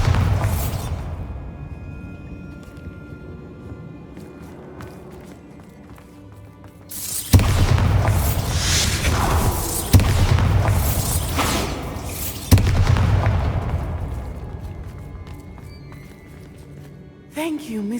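A Bombarda spell blast breaking a curse in the Hogwarts Legacy video game, heavy booms and thuds bursting out in several sharp hits over rumbling game sound, with voices speaking around them.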